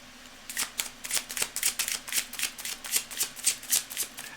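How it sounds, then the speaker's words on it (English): A deck of playing cards being shuffled close by, a fast run of crisp riffling bursts repeating steadily for several seconds, with no talking over it. "Cards are getting well shuffled."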